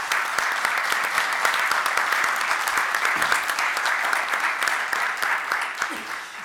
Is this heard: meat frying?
no